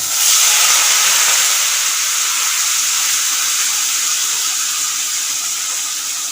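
Chopped onions land in a hot pan and set off a loud, steady sizzling hiss that starts strong and eases only slightly over several seconds, with no voices.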